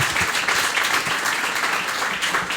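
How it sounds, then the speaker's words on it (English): A crowd at a literary festival event applauds a publisher and his press, producing a loud, continuous roar of clapping throughout. "Let's give a big round of applause to Jeremy and Peepal Tree Press"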